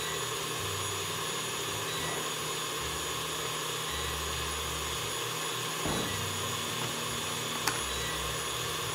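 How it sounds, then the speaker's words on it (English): KitchenAid stand mixer whisking meringue on high speed, a steady loud motor whir with a whisk churning continuously and nobody speaking. "in the KitchenAid, and we're gonna beat this on high"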